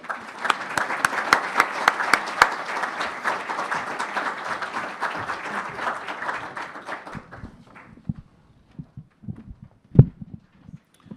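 Audience applause welcoming an author at a library book talk, a dense steady clapping from a sizable crowd for about seven seconds, then tapering to a few scattered claps and small knocks.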